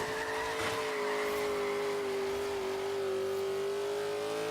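A car drifting through tight switchbacks in Forza Horizon 3 gives a steady, loud tire squeal over the engine note, sustained without a break.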